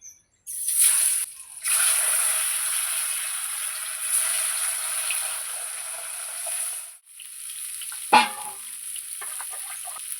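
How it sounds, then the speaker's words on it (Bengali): Tangra catfish from the Ganges, a large 8 kg fish, frying in hot oil in a kadai, a steady loud sizzle that drops out briefly, with a sharp clatter near the end. "এবার আমি মাছগুলো ভেজে নেব"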